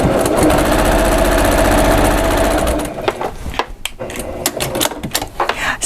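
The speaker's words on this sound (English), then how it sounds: "just go ahead and start to sew again" A BL Accomplish sewing machine runs steadily for about three seconds while stitching a folded outside corner on fabric, then stops, leaving sparse handling clicks and light rustling.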